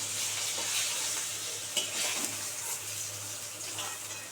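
Fish pieces fried red on both sides sizzle in oil in a pan while cooking fish kalia, a steady close hiss with a few sharper crackles.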